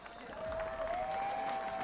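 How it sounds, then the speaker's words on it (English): Steady applause from a crowd at an archery World Cup compound men's bronze match, a sustained wash of clapping with a faint tonal hum running through it. "let's give a strong round of applause for his opponent,"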